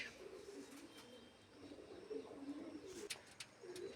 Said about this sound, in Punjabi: ਇਹ ਜਿਹੜਾ ਕਬੂਤਰ ਹੈ ਇਹ ਛਤਰੀ ਦਾ ਇੰਨਾ ਸਿਆਣਾ ਸੀਗਾ